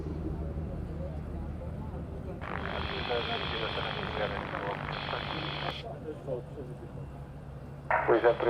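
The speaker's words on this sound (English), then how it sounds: "C295 on the approach." A C295 turboprop on approach in strong wind at Madeira Island Airport gives a steady engine and propeller drone under a voice. It swells louder partway through, eases off, then rises again near the end.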